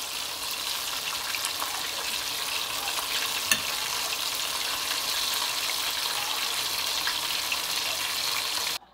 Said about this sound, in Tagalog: Lulutuan ko yung mga puso ng fried chicken